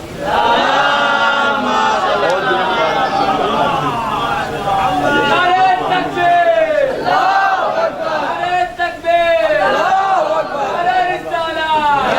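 A large crowd at a Jashne Risalat gathering in Shivli, Azamgarh, chants religious slogans in unison, loud and sustained, with many voices rising and falling together in repeated waves and no pause.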